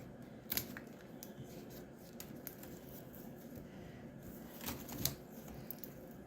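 Scissors snipping off the loose ends of a woven basket, a handful of faint, crisp cuts scattered over a quiet background with no talking.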